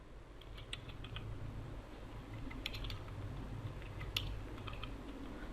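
Code being typed on a computer keyboard: quick, irregular key clicks in short bursts over a steady low background hum, fairly close.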